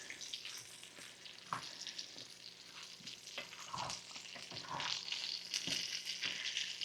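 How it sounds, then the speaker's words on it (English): Quiet, steady sizzling of chicken frying in a pan, with occasional soft clinks and scrapes of a utensil nearby. "I've got my chicken over here frying."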